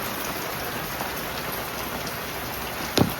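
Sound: rainwater pouring down from above

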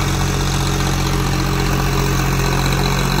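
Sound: Swaraj 733 tractor engine running

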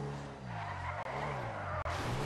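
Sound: car drifting, tire skid in GTA Online video game

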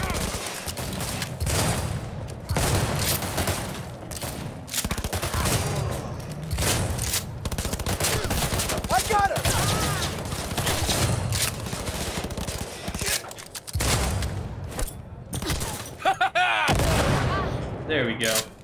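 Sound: shotgun gunfire in Cyberpunk 2077 video game

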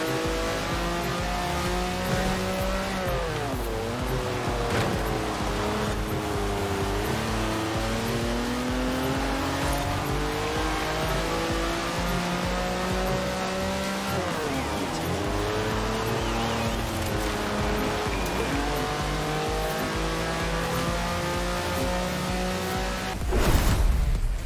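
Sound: classic car engine racing in video game Forza Horizon 4

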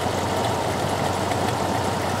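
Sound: car engine idling while setting fast idle on carburetor cam

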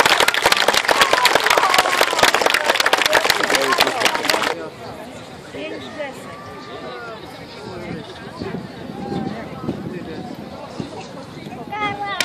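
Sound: audience applause at taekwondo show

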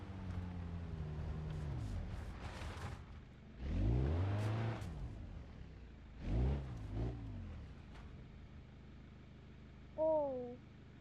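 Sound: Opel Astra car driving in off-road test

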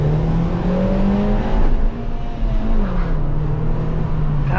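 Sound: Suzuki Swift Sport accelerating hard, both front tires squealing

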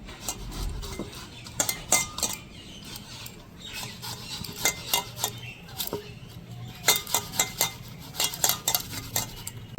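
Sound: watermelon being grated on a grater

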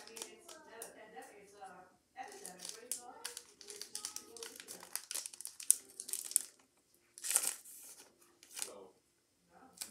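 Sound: Pokémon card pack plastic being cut open with scissors

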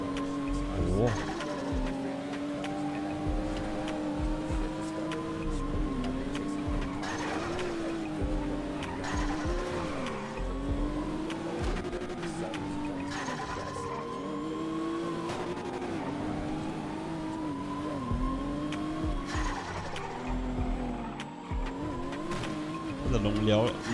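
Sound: Nissan Skyline R34 driving and skidding in GTA video game

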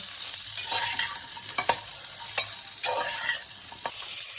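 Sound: frying vegetables (drumstick, carrot, gourd)

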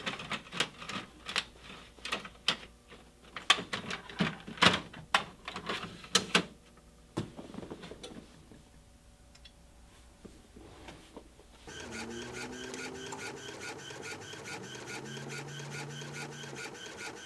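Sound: inkjet printer feeding and printing heat transfer paper

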